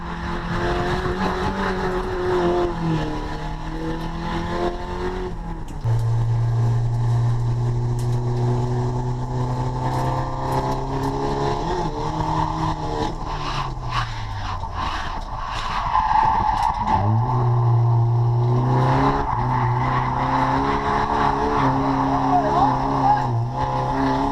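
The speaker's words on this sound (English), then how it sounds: "As you can hear, the car is really struggling getting up that hill." A track day car labours uphill in third gear, its engine droning steadily with shifting low pitch and occasional rises, loud and close throughout, with some tire noise mixed in.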